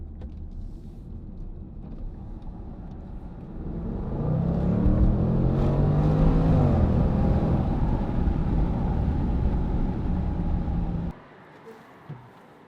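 A car pulls hard away from traffic lights on a late-night drive, its engine note climbing loudly after a steady idle-like rumble, then cutting off abruptly near the end.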